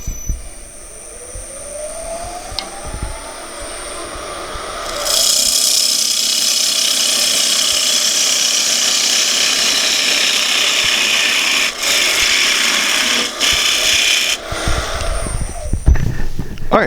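A wood lathe spins a bowl being turned, first a quieter whirring hum with a rising tone, then a loud, rasping cutting noise as the tool bites into the wood for several seconds, broken briefly before the work winds down.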